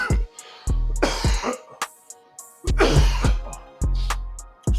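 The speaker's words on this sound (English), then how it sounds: "Trying to get rid of this little cough." A man's close, loud coughs and throat clearing while he is sick, several harsh bursts in a row separated by short pauses.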